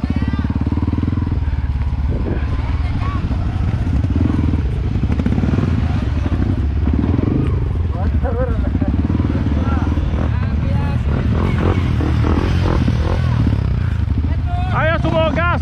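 A Yamaha WR155 motorcycle riding off-road on a trail, its engine droning loudly and steadily throughout with clattering and scraping from the rough ground, while voices talk and shout over it.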